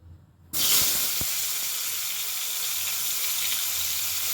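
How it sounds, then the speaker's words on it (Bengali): Eggplant pieces, coated with salt and turmeric, drop into hot mustard oil over a high gas flame, bursting into a loud, steady sizzle that continues for about four seconds with no talking. "প্রথমে আমি বেগুনগুলোকে সামান্য একটু লবণ আর হলুদ মাখিয়ে ভেজে নেব।"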